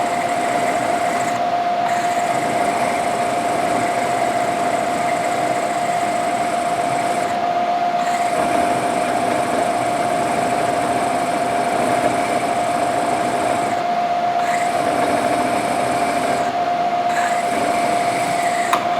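A milling machine cuts a one-inch by half-inch slot through a metal part, giving a loud, steady mechanical whine with a sustained tone, broken by a few short dips as the cut pauses.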